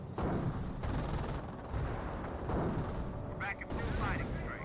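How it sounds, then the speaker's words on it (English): Dense anti-tank gun and mortar fire in a Company of Heroes 1 battle, a continuous loud barrage of booming shots and blasts with overlapping detonations throughout. "Seeing some various AT gun fire, mortar fire."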